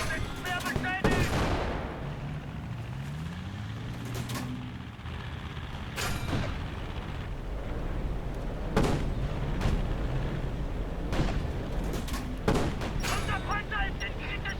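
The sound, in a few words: tank cannon fire in a video game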